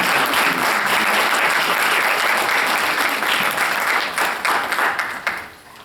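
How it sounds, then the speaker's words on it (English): Applause from a chapter meeting audience welcoming a speaker, a full, close burst of many hands clapping that thins into scattered claps and tails off at the end. "Let's give him a round of applause."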